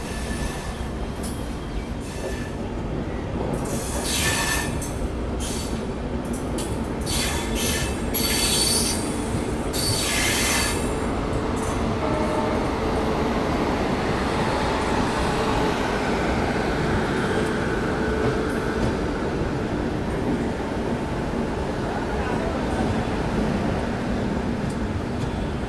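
Dibrugarh Rajdhani Express 20504 pulling into New Jalpaiguri, heard from a 2AC coach: a steady loud rumble of wheels on rails with high metallic squeals flaring repeatedly in the first ten seconds, then a continuous rolling roar.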